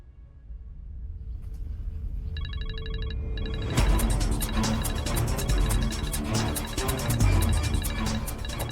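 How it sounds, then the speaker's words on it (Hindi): A mobile phone ringtone trills in a scene from the Zee TV Hindi drama Rabb Se Hai Dua, starting faint and electronic and then swelling under loud, busy background music and effects. "लगता है दुआ का फोन बज रहा है।"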